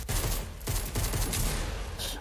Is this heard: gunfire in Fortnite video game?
yes